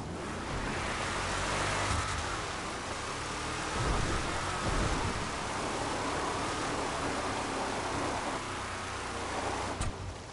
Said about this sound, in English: Unless it's because of the rain.